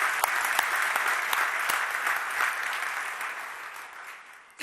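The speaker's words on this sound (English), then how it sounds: "A round of applause, please, for Whittier's amazing supporters." Steady applause for Whittier's supporters at a 2019 fundraising toast event, a dense crowd clapping continuously at full strength, then thinning and fading toward the end.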